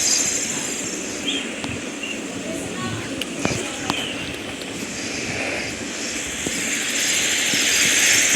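Aeroplane engine in the mobile horror game Granny Chapter 1, a steady droning hum with broadband noise that swells slightly toward the end, a few faint clicks scattered over it.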